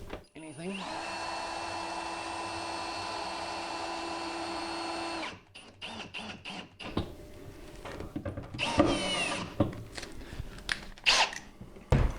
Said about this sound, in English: Just going to throw a drill on those just to speed it up.